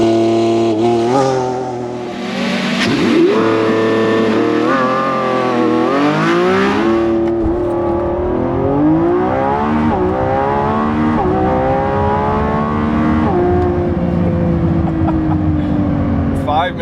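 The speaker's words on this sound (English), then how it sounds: "we have to do launch control. Let's do launch control." A Lamborghini Revuelto V12 roars through a launch-control start, engine note climbing through several sharp upshifts as it accelerates hard, loud and close inside the cabin.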